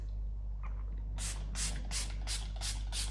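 Milk Makeup setting spray is misted over a face in a quick, close run of about six sharp hissing spritzes after a quiet moment.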